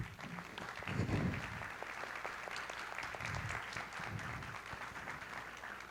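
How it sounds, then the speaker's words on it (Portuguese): An audience at a union meeting of federal court staff gives a sustained round of applause, a dense, even patter of many hands at moderate volume, with faint murmurs of voices underneath. "eu queria uma salva de palmas para a Luciene."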